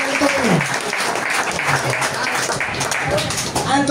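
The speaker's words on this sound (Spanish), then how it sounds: "Quiero dar un aplauso al Señor Jesús" Applause at an evangelical church service, broad steady clapping from a congregation lasting the whole stretch, with voices and a few shouts mixed in under it.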